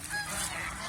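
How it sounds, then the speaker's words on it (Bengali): Older domestic geese honking close by, a dense continuous clamor of overlapping calls lasting about a second with no talk. "এই যে পুরান হাঁসগুলি দেখেন"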